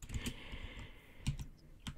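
Keystrokes tapping on a computer keyboard inside The Sims 4, a steady patter of small clicks with a few louder key hits, close and with no talking.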